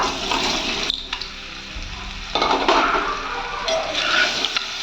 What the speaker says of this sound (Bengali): তেল গরম হয়ে গেছে, এবার আলুগুলো দিয়ে দিচ্ছি।